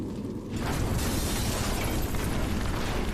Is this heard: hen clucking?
no